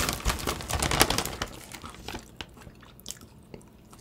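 Close, crisp crunching of a makgeolli-flavored snack being chewed, dense bites at first that thin out into slower, scattered crunches.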